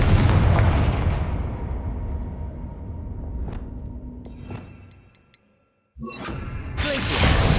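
A Confringo spell explodes in Hogwarts Legacy as a loud, close booming blast with a long rumbling decay, followed by brief silence and a fresh burst of noisy impact.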